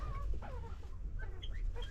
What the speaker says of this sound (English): This was our first ever pheasant